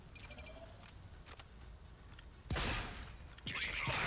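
Gunfire strikes a metal structure in the video game Rogue Company: quiet clicks and light taps give way to two loud bursts of shots with sharp metallic impacts, heard close.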